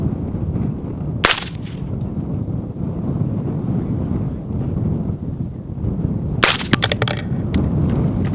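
Strong wind buffets the microphone outdoors at a shooting range with a constant low rumble, broken by two sharp cracks of an AR-15 rifle firing about five seconds apart.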